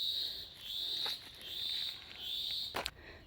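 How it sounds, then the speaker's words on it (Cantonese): Small birds chirp steadily beside an intermittent stream on a hill trail between Luk Keng and Tai Mei Tuk, a continuous high twittering with a brief louder rustle near the end and no talk. "有雀仔聲"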